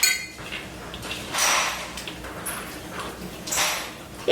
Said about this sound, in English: start pushing it into the wall of the bowl